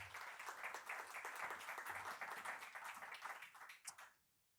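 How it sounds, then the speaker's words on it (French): Applause from the audience at a startup pitch event: a crowd claps steadily and fairly softly for about four seconds, with a couple of sharper claps standing out before it fades to silence. "On l'applaudit aussi."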